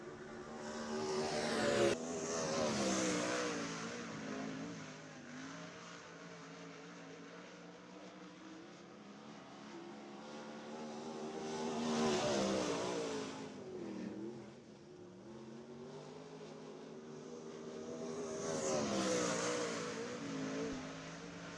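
Sprint race cars circling a dirt oval at Southern Iowa during timed laps, engines swelling loud as each car passes near, then fading to a distant drone before the next pass; three clear passes, no talk.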